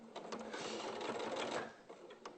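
A sewing machine stitches fleece fabric in a steady, fast run of needle strokes, close and continuous before slowing near the end.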